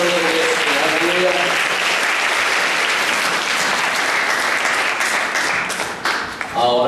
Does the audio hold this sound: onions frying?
no